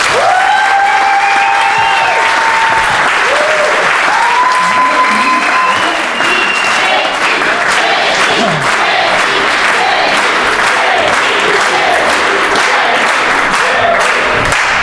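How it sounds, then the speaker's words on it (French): An audience claps loudly and continuously at a comedy showcase, the applause holding dense and steady throughout, with a whistle-like tone and a few voices rising over it early on. "J'aimerais qu'on l'applaudisse"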